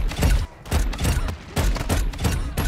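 Bursts of rapid automatic gunfire on the Shipment map of a first-person shooter video game, loud and close, several volleys with short gaps between them.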